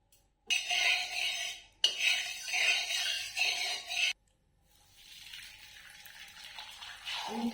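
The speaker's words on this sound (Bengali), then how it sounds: "এবার আমি এতে তেল দিয়ে দিচ্ছি সামান্য পরিমাণে" A small amount of oil goes into a hot kadai for frying kohlrabi parathas: two loud hissing bursts, then a softer, steady sizzle that continues to the end.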